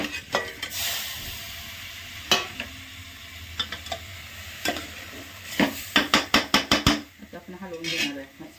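A spoon stirs egg curry masala in a pan, giving scattered scrapes and metallic knocks that turn into a quick run of rhythmic clinks, over a soft sizzle.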